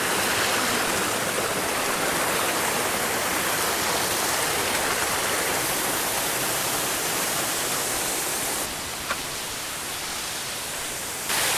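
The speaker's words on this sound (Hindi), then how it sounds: "यहाँ पर मेरे सामने है वाटरफॉल, बहुत अच्छा दिख रहा है" A waterfall and rushing stream at Gupt Bhimashankar near Pune roar in a steady, dense wash of water noise, close and loud throughout, with no speech.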